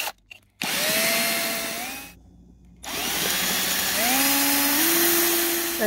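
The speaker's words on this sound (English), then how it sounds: "I'm gonna kind of go around and drill a few more holes" A handheld power drill bores holes in plastic for a Halloween lamp craft, with three close, loud bursts of whining motor whose pitch rises as each spins up, separated by short pauses.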